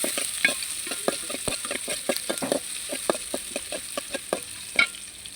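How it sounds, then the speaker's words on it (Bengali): Onions sizzling in hot oil with whole garam masala spices in a pan, a steady frying hiss broken by repeated close stirring scrapes and taps throughout. "দিয়ে দিলাম পেঁয়াজটা ভালোভাবে ভেজে নেব।"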